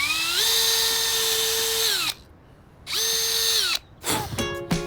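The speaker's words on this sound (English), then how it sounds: "pre-drill a hole on our ends and screw it all together" A power drill pre-drilling holes in timber whirs up and runs steadily for about two seconds, stops, then spins again briefly before a few clattering knocks.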